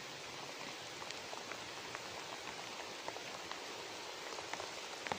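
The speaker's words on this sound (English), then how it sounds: "There's rain on the ground" Rain falls on the ground outdoors, a soft steady patter of scattered drops hissing evenly and faintly throughout.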